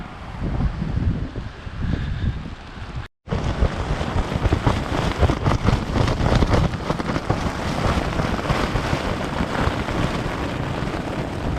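Strong gusting wind roars through woodland during a winter storm, a loud, continuous broadband rush with surging gusts and no voices, broken by one brief dropout near the start.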